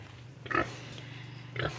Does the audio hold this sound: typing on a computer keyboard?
no